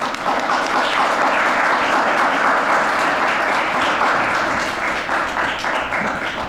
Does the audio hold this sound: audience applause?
yes